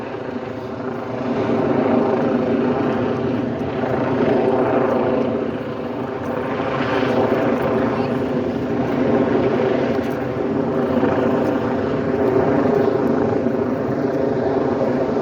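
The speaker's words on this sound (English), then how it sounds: "Taking pictures of the helicopter up there. He's been hovering around." A helicopter hovers over a protest, droning with a steady rotor thrum, its loudness swelling and fading slightly, no voices present.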